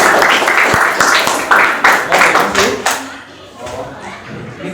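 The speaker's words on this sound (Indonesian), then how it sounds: "Kita beri aplaus." A classroom of students applauding together, a loud close burst of clapping that fades out after a few seconds, with voices talking underneath.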